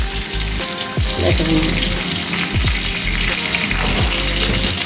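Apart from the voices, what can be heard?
onion and curry leaves sizzling in hot oil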